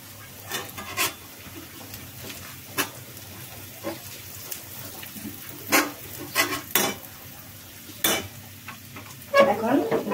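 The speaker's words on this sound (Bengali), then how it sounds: "এখন আমি পেঁয়াজ আর রসুন কেটে রেখেছিলাম, এটা দিয়ে দিলাম।" Onion, garlic, bay leaf and whole cumin fry in a pan for chickpea dal with egg, a soft low sizzle broken by repeated scraping stirs of a spoon against the pan, louder clatter near the end; no talking.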